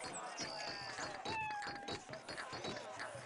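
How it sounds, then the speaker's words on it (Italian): A cat meowing in the ancient-Egypt game Children of the Nile, several short, mid-pitched meows close by over a busy background of game ambience. "Questo è un altro gatto."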